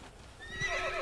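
A horse in the video game Assassin's Creed gives a short, faint whinny that swells briefly from a quiet background.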